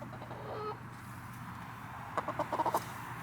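Chickens cluck in a quick burst of short calls partway through, over steady low background noise on a farm.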